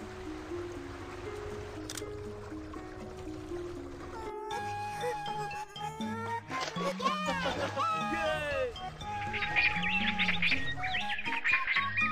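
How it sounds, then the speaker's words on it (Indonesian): Cartoon birds in an Amazon forest setting chirp and tweet in bright, repeated calls that build toward the end, mixed with music and a soft background wash while a voice speaks. "ada beberapa burung. Mereka cantik sekali."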